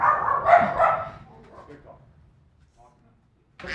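Puppies belonging to an air-conditioning repairman bark and yip indoors in an office, a short close burst of yaps with a whimper, then fading to near quiet before another noise starts.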